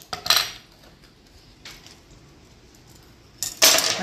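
A knife cuts thin-skinned yellow lemons into small pieces, giving two sharp clinking chops against a board, one near the start and one near the end, with a softer tap between.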